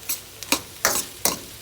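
Rice stir-fried with shrimp and chicken in a hot pan, heard as loud, close scraping tosses in a quick, uneven rhythm of four or five bursts over a sizzle.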